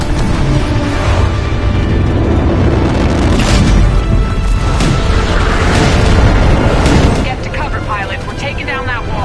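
A wall is blown apart in the Titanfall 2 video game with a dense, roaring explosion and sustained rumbling blasts that fill the clip, while voices speak over the chaos before the noise drops near the end.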